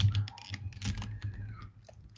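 Quiet typing on a computer keyboard, a quick run of soft key clicks with short pauses, fairly close and alone.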